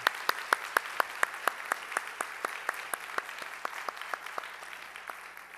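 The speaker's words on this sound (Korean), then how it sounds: "우리 큰 격려의 박수 부탁드립니다." A church congregation gives a steady rhythmic round of applause for welcomed visitors, evenly spaced claps that sound fairly distant in a reverberant worship hall.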